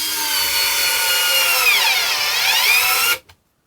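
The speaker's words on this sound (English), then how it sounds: "Worx also takes the fastener in and strips it out" A Worx battery-powered screwdriver drives a fastener in one continuous motor whine with a pitch dip near the end, then cuts off sharply.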